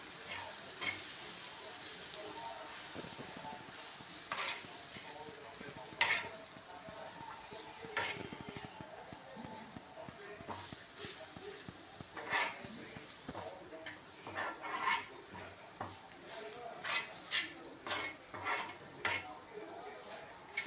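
Besan (gram flour) with onion, tomato, chili and salt is stirred and roasted on a tava, giving a soft frying crackle under repeated scraping and tapping strokes of a spoon against the pan.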